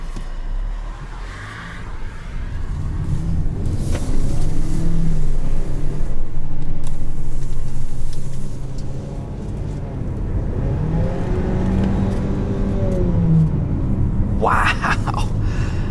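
A 2020 Ford Escape Titanium accelerates hard, engine note rising and swelling as it revs through the gears, heard from the cabin over road noise, with a brief voice near the end.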